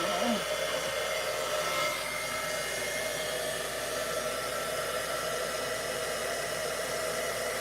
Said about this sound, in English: hopefully this won't be too loud with my heat tool